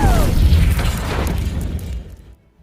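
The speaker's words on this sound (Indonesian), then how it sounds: "Namun tiba-tiba terjadi ledakan yang membuat dirinya terlempar." A deep explosion booms through the Mars habitat in the 2015 film The Martian during an attempt to make water, opening loud and rumbling before fading into near silence.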